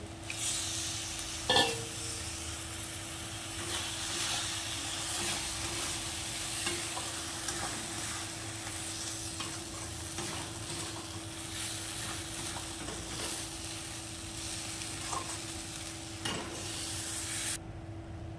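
Goat fat sizzles and fries steadily in a pan while a spoon stirs it, with occasional scraping clinks over a continuous crackling hiss, close and moderately loud, no talking.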